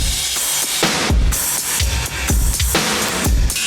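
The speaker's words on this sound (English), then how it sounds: "So all together the drums sound like this." A layered drum beat built over a rock drum loop, with punchy kicks, snappy snares and dense cymbal wash in a driving, busy rhythm, loud and continuous with no voices.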